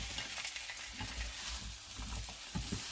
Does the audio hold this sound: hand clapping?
no